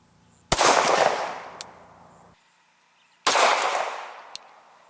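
Two loud, close 9mm gunshots from a Glock 17 pistol, each a sharp crack followed by a ringing decay, spaced about three seconds apart with no talk.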